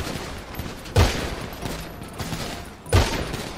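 GTA 5 roleplay gunfight, a steady crackle of distant shots under a busy background, punctuated by two louder, closer blasts about two seconds apart.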